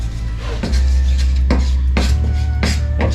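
Leftover sauce stirred in a hot pan for braised beef ribs, a utensil scraping and clinking against the metal in a few distinct strokes over a steady low sizzle and hum.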